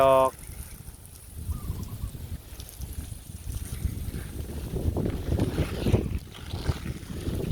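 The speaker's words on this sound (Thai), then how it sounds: "ลมมันพัด แรง มันทำให้หนาวเหมือนกันเนี่ย" Strong wind gusts blow outdoors on a cold day, buffeting the microphone with a broad rushing roar that swells toward the end, while someone talks over it.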